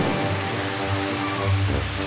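Heavy cartoon rain pours as a steady dense hiss, with a soft musical tone underneath during the brief stretch and no talking.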